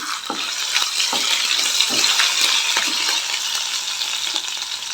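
Ginger and green chilies added to hot oil with cumin sizzle in a steady, loud hiss, with a few light clinks of a utensil against the pan close by.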